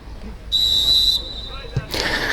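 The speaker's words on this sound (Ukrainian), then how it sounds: "стартовий свисток у нас пролунав." A referee's whistle sounds at the kickoff of a regional first-league amateur football match in Ivano-Frankivsk oblast, Ukraine: one long, steady, shrill blast of about half a second over outdoor crowd noise, followed by faint background chatter.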